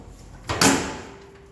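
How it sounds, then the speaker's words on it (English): The door of an equipment cabinet on a display measurement system is pushed and turned open: a short latch click, then a louder clack and a brief swish that fades over a faint steady hum. "You can open the door like this. Push and turn."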